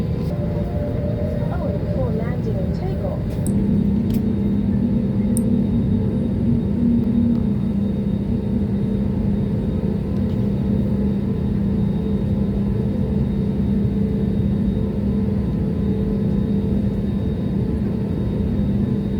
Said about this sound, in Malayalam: ഇപ്പോൾ എൻ്റെ ഫ്ലൈറ്റ് ടാക്സി വേയിലൂടെ സഞ്ചരിച്ചുകൊണ്ടിരിക്കുകയാണ്.